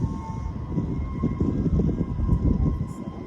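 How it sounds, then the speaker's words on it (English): A train running two blocks from a house rumbles as a low, steady roar with a sustained horn-like tone on top, heard at a moderate distance for a few seconds with no talk. "It's a train that runs 2 blocks from my house."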